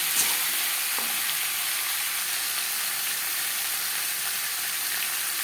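Potatoes sizzle steadily in a hot pan as turmeric and salt are mixed in, a continuous close frying hiss with faint scraping stirs and no voices.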